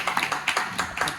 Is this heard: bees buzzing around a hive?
no